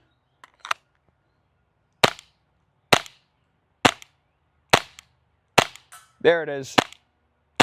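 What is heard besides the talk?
LEGO airsoft gun firing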